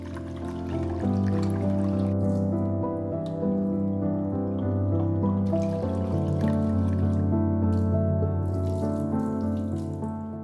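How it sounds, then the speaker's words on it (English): Tap water runs steadily into a sink while sushi rice is rinsed and drained, a continuous close splashing rush with light dripping layered in, no voices. "Rinse and drain the rice 2 to 3 times to get rid of the excess starch."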